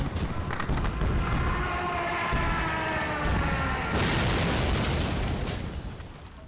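Anti-aircraft guns fire and a plane is shot down in the Men of War video game, heard as a dense, loud barrage of rumbling booms and bursts, with a sharper blast swelling midway before fading.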